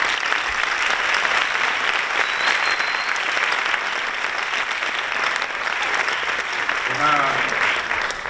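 Steady, dense applause from an audience filling the whole stretch at the closing event of the FICSAN festival, loud and continuous with a brief voice near the end.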